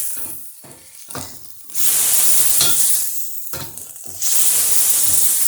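Lemon juice hits a hot frying pan for cod, bursting into loud hissing sizzles in two surges, with quieter clattering stirring between them.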